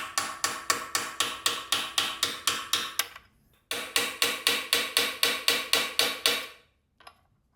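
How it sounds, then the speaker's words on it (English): Steady, evenly spaced metallic taps from a hammer striking a punch to seat a cap during assembly of a Honda CBR1000RR motorcycle, two runs of about a dozen close, sharp blows separated by a short pause. "I'm gonna tap it on with the punch."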